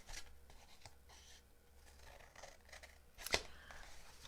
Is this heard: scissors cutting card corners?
yes